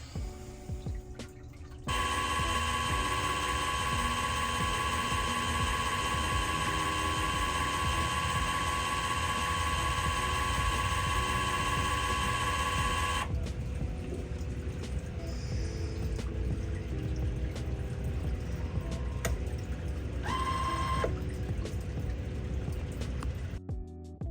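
An IND Aquatics Af4 aquarium fish food feeder runs steadily for about twenty seconds, giving a continuous mechanical whir with tonal hum that shifts partway through, close and alone.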